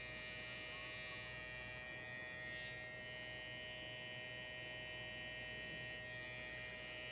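A Gamma Xceed hair clipper buzzes steadily while cutting a lineup, a continuous, fairly faint electric hum with no break across the whole stretch.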